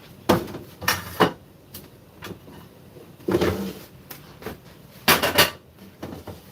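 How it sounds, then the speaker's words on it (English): Cooking pot being handled before deep frying empanadas in oil, knocking and clattering in several separate bumps and scrapes at close range. "let me get my pot over here"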